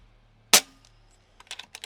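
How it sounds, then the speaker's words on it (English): An FX Panthera airgun fires a single sharp, loud shot that stops abruptly, followed a moment later by a few quick light mechanical clicks. "let's do 5 shots at 50"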